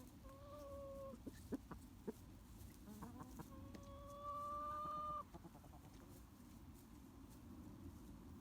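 Chickens cluck softly nearby with a few sharp short calls and a longer drawn-out squawk in the middle, all faint over a steady outdoor background.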